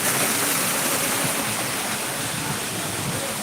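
Flowing water at the Mayapur ISKCON temple, a loud, steady broadband rush like a fountain or channel of water pouring on both sides, constant with no pauses.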